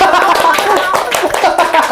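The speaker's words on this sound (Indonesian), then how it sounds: "Buat tepuk tangan teman-teman." Hands clapping among a small group in a casual Indonesian podcast chat, a steady patter of claps running for two seconds with people talking over it.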